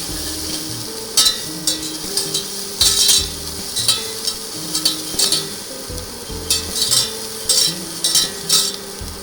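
Finely chopped herbs and shallots sizzling in a pan while a utensil stirs and scrapes, producing repeated close clinks over a steady frying hiss.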